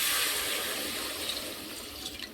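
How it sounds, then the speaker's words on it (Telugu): Water pours steadily into a pot of cooking mutton bones for Telangana-style kalakura soup, a continuous close rushing splash that eases off slightly toward the end. "ఇప్పుడు వాటర్ యాడ్ చేస్తున్నానండి."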